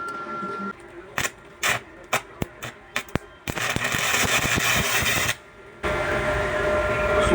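An inverter welding machine strikes test welds, giving short crackling bursts in an irregular rhythm that give way to a longer, steady sizzling arc, broken by a brief pause before the crackle resumes.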